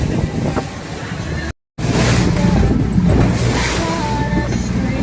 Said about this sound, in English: The wind's coming straight at me